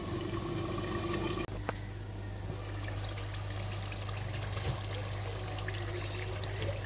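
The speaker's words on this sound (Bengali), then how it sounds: "কষানো হয়ে গেলে লাস্ট ঝোলটা দিয়ে দিব।" Broth poured into Sylheti beef satkora curry after the meat has been browned, a continuous close watery pour with a steady low hum beneath it and a sharp knock early on.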